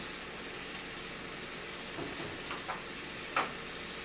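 Lemon chicken frying in a pan, a soft continuous sizzle with a few faint scrapes and taps rising above it.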